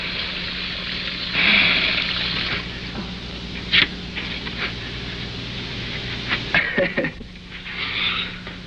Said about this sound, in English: I know he can't hear me when the water's running.